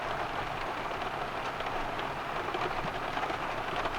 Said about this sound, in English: I found my camp and it started raining again.